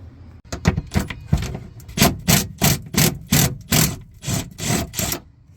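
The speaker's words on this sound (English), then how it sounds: "I'm gonna try the impact driver first, just because they're double nutted." Impact driver working double nuts loose on a 1968 Corvette, a run of about a dozen sharp, rapid hammering bursts close by, loud and steady with brief gaps between them, no talking.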